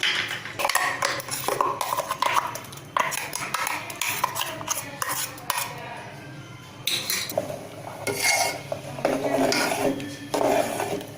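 Ground coconut paste is stirred into mutton curry in a metal pot, a spoon scraping and clinking steadily against the sides with rubbing and knocks throughout, close up with faint talk beneath.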